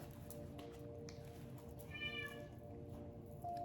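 A cat meows once in a soft, drawn-out call, close by in a quiet indoor room with a steady low hum underneath.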